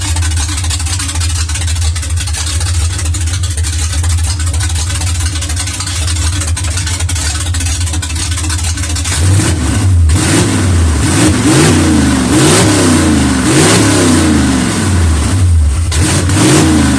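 A car engine with freshly built exhaust pipes, first idling with a steady low drone, then blipped through repeated revs that rise and fall, loud and close.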